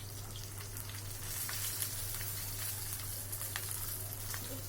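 Potato and eggplant fry in a pan with a dense, even hiss like light rain, faint crackles scattered through and a low hum beneath, no voices.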